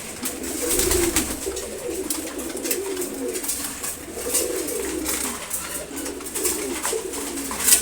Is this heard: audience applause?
no